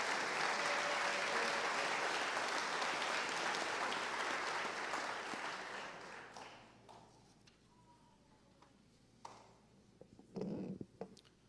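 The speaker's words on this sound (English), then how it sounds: "Let's give them a round of applause for their hard work" Sustained applause for graduating seniors of the Sentinel class of 2022 at a high school graduation ceremony, a broad steady ovation that fades out over several seconds, leaving a few scattered claps and small noises.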